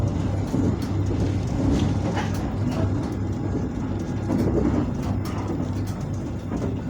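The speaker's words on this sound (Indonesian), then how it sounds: "Nah, di Kelari ini kereta makin ngebut." An Indonesian passenger train, Malabar 107 from Bandung to Pasar Senen, runs at speed near Kelari, a steady low rumble and rattle of the carriage heard from inside, with no talking.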